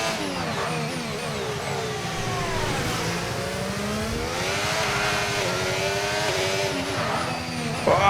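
An F1 car in F1 25 on a street circuit brakes hard into a corner, its engine note sweeping down through the gears with tyre squeal from the lock-up, loud and steady, with no talk.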